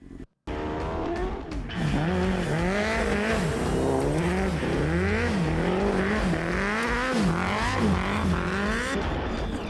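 A loud engine revs repeatedly, pitch rising and falling in rapid waves, close and continuous for several seconds with a gritty, buzzy edge.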